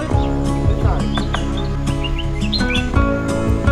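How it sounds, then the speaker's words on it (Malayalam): Many birds chirp and trill in quick overlapping calls at dusk among flowering plants and cacti near Lion's View Point in Lonavala, steady and fairly close over a continuous background. "കിളികൾ കുറേ ഉണ്ടല്ലേ."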